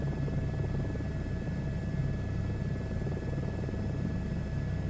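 A big helicopter flies in a VR video game, giving a steady low rotor-and-engine drone. It stays faint and continuous and unchanging throughout, with no voices.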